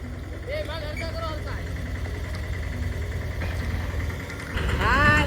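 Tractor engine idling and chugging in a farm field while people talk over it, the engine steady throughout and revving louder near the end.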